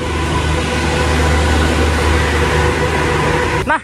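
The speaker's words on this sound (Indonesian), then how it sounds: "Kereta api komuter dari stasiun Surabaya Kota tujuan Sidoarjo." An Indonesian commuter train departing Surabaya Kota station for Sidoarjo rumbles steadily with low mechanical hum and rolling noise, loud and close, easing slightly near the end as a brief squeal rises.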